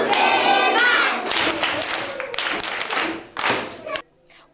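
A group claps for a student in a classroom: loud, uneven bursts of clapping and thumps mixed with voices, breaking off abruptly near the end.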